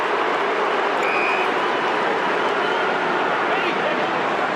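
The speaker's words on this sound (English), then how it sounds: "Have a listen to the crowd" Football crowd at a 2012 St Kilda v Carlton AFL match reacting to an umpire's free kick, a steady, dense roar of many voices that holds at an even level throughout.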